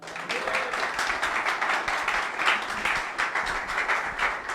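A church audience bursts into applause after a sermon, a dense patter of many hands with individual claps standing out, moderately loud and continuous throughout.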